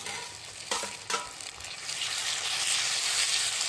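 A ground paste of tomato, ginger, garlic, green chili and cumin added to potatoes and onions frying for a Bengali katla fish curry, two scraping knocks, then a swelling, steady loud sizzle, close with no talk.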